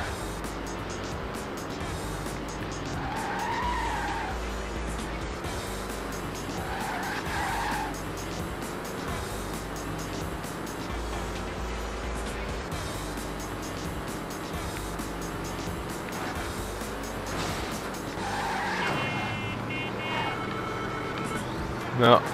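A car in the racing game Test Drive Overdrive runs with a steady engine drone, and tires squeal and skid in several short bursts as it brakes, under someone speaking throughout.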